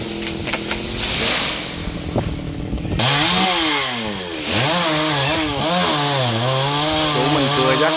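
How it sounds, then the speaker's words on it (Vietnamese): A chainsaw cuts a yellow-flowered acacia tree beside a fish pond near a house. It gives a loud, close, continuous buzzing whine that rises and falls in pitch as the engine revs under load, with no talk. "Của mình cưa rất là nhanh lẹ nha các bạn."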